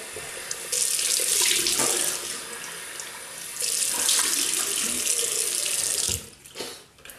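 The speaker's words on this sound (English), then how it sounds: "So we'll rinse off warm water." Warm water runs steadily from a tap for rinsing after a shave with a slant double-edge razor, in two long bursts, splashing close by, then cuts off with a few drips and a brief clatter.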